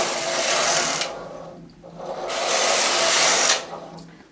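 A knitting machine carriage slides across the needle bed, first right to left and then back left to right, making a loud, close mechanical whirring swish in two long passes separated by a brief pause.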